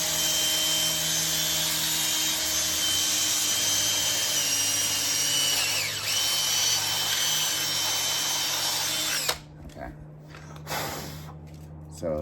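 A power drill whines steadily and loudly for several seconds drilling a hole in a Land Cruiser 250 front door for a speaker upgrade, then cuts off, leaving quieter handling noises behind.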